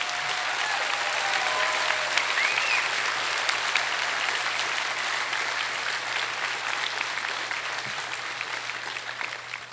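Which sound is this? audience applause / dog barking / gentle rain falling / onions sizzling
audience applause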